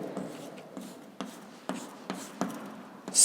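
A chemical formula is handwritten, likely in Hindi-medium chemistry teaching, in a series of short close scratchy strokes, each a quick scrape that fades, spaced about half a second apart in a quiet room.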